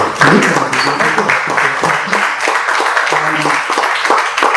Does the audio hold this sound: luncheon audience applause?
yes